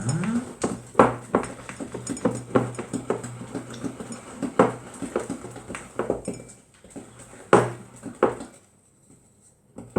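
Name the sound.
mixing lemon pound cake batter in a bowl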